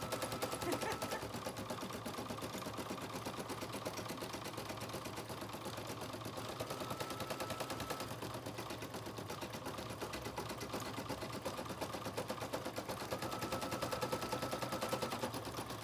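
An embroidery machine stitches out an in-the-hole mini bag purse design, giving a continuous fast mechanical chatter at an even, unbroken rhythm and moderate volume.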